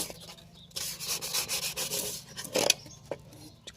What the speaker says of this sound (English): I've been wet sanding it with some